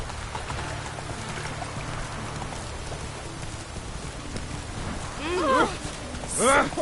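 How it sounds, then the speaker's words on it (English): Steady rain hiss fills the background throughout in the game The Witcher 3, with a few bright chirping calls rising near the end. "Looks like rain."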